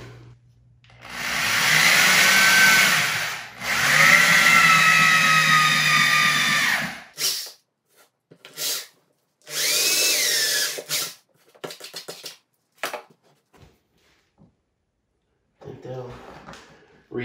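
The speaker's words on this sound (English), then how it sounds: "I'm going to add a second screw into the next joist just to make sure the floor remains secure from squeaks." A power drill drives a screw down through flooring into a joist to stop squeaks: two long, loud whirring bursts, then short spurts and taps as the screw is set, with quiet gaps between.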